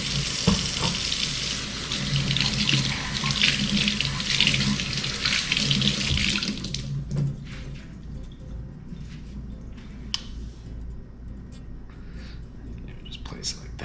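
Tap water runs loudly while tri-tip beef is rinsed under it, a steady splashing hiss that cuts off about halfway through, leaving faint clatter and quiet kitchen sounds.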